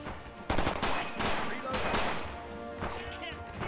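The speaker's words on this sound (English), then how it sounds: "the Americans have got quite a lot of automatic and semi-automatic weapons there" M1928 submachine gun bursts mixed with semi-automatic rifle shots in the Rising Storm video game battlefield, loud overlapping volleys with someone talking over them.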